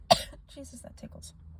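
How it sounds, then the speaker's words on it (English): A single sharp cough opens during a dust-triggered sneezing fit from old books, followed by soft throat sounds and breathy vocal noises fading out. "It's, like, making me cough because it tickles."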